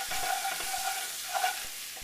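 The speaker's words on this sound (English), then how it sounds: "we want to work this trinity, as the Cajuns, the Arcadians call it, this trinity into that roux." Chopped trinity vegetables stirred into a hot roux for chicken and sausage gumbo, with a steady close sizzle and soft scraping strokes of the spoon through the pot.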